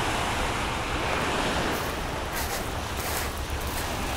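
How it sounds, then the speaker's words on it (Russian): Sea waves wash continuously onto a beach in Alanya, a broad steady roar of surf mixed with wind buffeting the microphone, loud and close, no voices. "Море здесь просто потрясающее."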